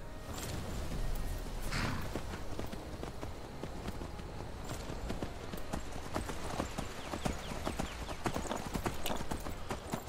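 A horse gallops with rapid, steady hoofbeats in the Skyrim video game, clip-clops loud and continuous over ten seconds, with a brief faint voice.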